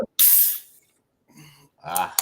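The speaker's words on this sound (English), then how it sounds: "Now about to pop open the bottle. You'll hear the widget." A sharp hiss bursts out as a widget beer bottle of stout is opened, followed by a pause and then someone speaking briefly.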